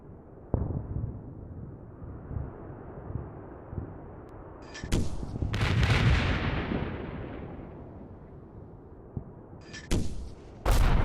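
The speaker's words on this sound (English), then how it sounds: "And yet again the rounds are falling completely off target." Artillery shells from an indirect fire mission landing off target in the Combat Mission war game, several heavy booming impacts spaced out over distant rumbling battlefield ambience, with a long rolling explosion near the middle.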